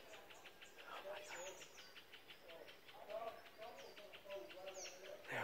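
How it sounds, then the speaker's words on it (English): Birds call busily around a 40-acre off-grid mountainside homestead in Australia, repeated chirps and trills forming a steady chorus at moderate distance, with a person talking briefly underneath. "Can you hear the birds?"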